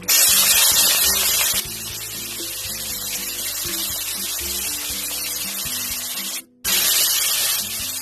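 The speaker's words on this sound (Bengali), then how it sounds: "কেটে রাখা সবজি দিয়ে দিচ্ছি।" Chopped cauliflower, potato, beans and carrot are added to hot oil with cumin, bay leaf and dried chilli, bursting into a loud, hissing sizzle that settles into a steady fry, with a brief drop-out and a renewed sizzle near the end.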